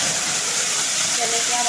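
Ginger, garlic and onion hit hot oil after cloves and cinnamon, giving a steady, close sizzle and hiss that runs the whole time without a break.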